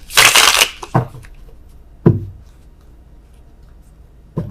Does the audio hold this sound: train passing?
no